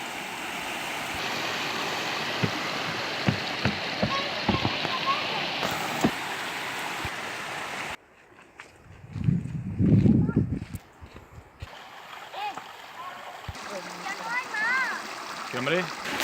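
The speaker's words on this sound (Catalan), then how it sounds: "El naixement del riu Cuervos, això veieu? Així filtra l'aigua." Water trickling and seeping at the source of the Cuervo river, a soft continuous wash broken by a louder close burst midway, with people talking nearby outdoors.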